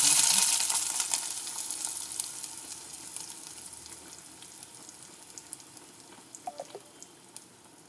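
Fried mustard seeds with dried red chillies and curry leaves are poured into a rose apple kichadi curry, giving a loud hiss that quickly fades to a soft crackle with a few light clicks.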